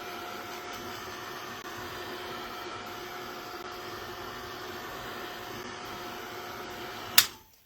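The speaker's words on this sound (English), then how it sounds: "I'm going to take my heat gun really fast and I'm going to zap this just so that it sets the color" Heat gun blowing on a card stencil to set the ink color, a steady even whooshing whir at moderate level for several seconds, ending in a sharp click as it switches off.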